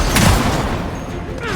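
A loud explosion in the video game Gears of War 4, a short heavy boom with rumbling debris that fades over about a second.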